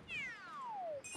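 A single clear, sharp meow from a cat character in the Super Mario 3D World video game, a falling electronic tone lasting about a second, isolated and up front.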